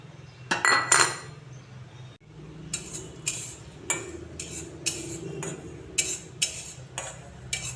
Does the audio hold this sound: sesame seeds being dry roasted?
yes